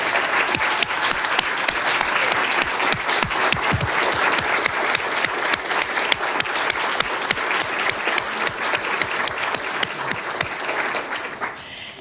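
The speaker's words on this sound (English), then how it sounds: "Can I have representatives of these companies please stand up so we can give you a round of applause?" Sustained audience applause for sponsors at an AIDS 2020 media event, with many hands clapping in a loud, continuous roar and distinct individual claps standing out close by, running steadily for about twelve seconds.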